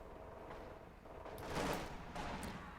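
Faint, muffled bursts of rifle and machine-gun fire from a Company of Heroes 2 battle in which German grenadiers fight Soviet conscripts, heard as a distant rolling fusillade with no voices.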